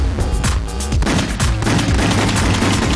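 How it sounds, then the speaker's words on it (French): Rapid gunfire from the House of the Dead: Overkill shooting game fills the whole stretch, a dense, loud run of shots and booms with no one talking. "Allez, je recharge. Et hop, je tire dans l'eau, il se passe rien."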